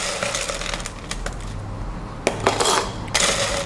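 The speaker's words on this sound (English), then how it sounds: "This time I'm going to fill it with ice." Ice cubes dropped by the handful into a cup with soda water for an Italian soda: scattered hard clinks and clattering knocks, close and fairly loud, with sharper bursts near the end.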